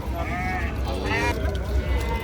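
A sheep bleats loudly twice in quick succession, close by, amid a busy background of people talking and low rumbling noise at a livestock market in Jomboy district, Samarkand region.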